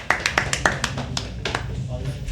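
An audience at a live poetry open mic claps in a quick run of sharp, scattered hand claps that thin out over a couple of seconds, with some voices mixed in underneath.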